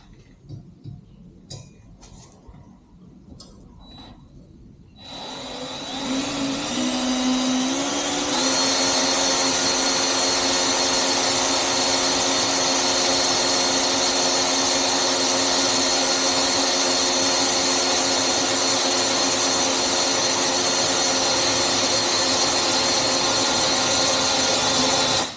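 An electric drill with a lubricated bit bores a hole for bolt-on extensions on a Razor scooter, starting after a few light knocks and then whining loud and steady without a break for about twenty seconds.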